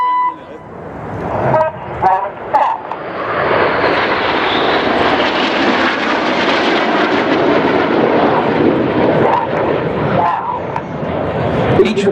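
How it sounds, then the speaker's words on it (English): Red Arrows RAF jets roaring overhead during aileron rolls at the Welshpool air show: a loud, sustained, broad jet engine roar swelling and holding, with crowd voices and a commentator talking near the start. "Each of the pilots in the Revolution performing an aileron roll there"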